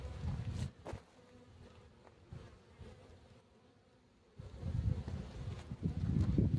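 Honeybees buzz around a hive entrance in spring as foragers return with pollen, a steady outdoor drone that swells louder near the end, with faint wind rustle underneath and no talking.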